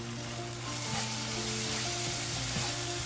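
A spoonful of cumin seeds frying in hot oil, the start of a spicy Andhra catfish curry, gives a steady close sizzle with faint crackles and occasional stirring clinks throughout.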